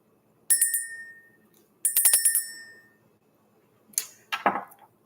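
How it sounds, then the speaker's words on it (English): Two bright bell strikes ring out and decay slowly, followed by a quicker, lower metallic chime near the end, all in a quiet room. "Let's go ahead and ring the bell."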